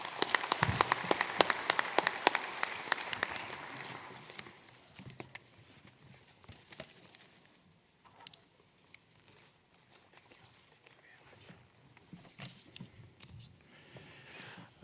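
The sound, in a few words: applause for the speaker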